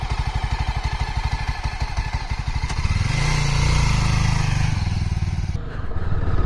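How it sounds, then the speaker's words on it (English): A Yezdi Scrambler motorcycle rides on a dirt trail, its single-cylinder engine thumping in a fast, even pulse, then rising into a louder, smoother roar as it accelerates, close and continuous. "So we are going to do the trail and tell you how this motorcycle performs"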